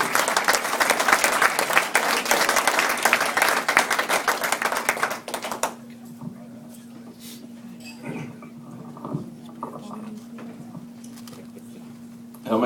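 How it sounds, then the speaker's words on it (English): Comedy club audience applauding a comedian, a dense burst of clapping for about five seconds that drops off abruptly, leaving a quiet room with a low steady hum. "Please keep it going for Mr."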